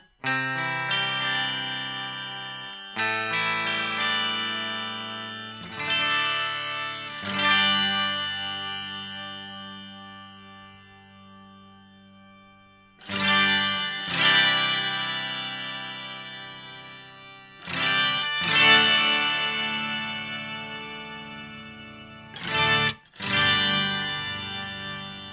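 Electric guitar chords run through an Electro Harmonix POG2 octave pedal, each chord struck and left to ring with shimmering octave layers and a slow fade, several separate strums with pauses between.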